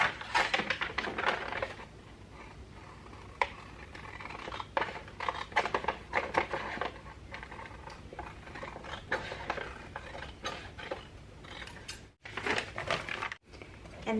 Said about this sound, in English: So I'm just gonna cut around this.